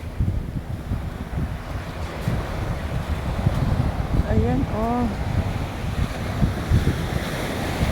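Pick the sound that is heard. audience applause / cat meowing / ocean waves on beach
ocean waves on beach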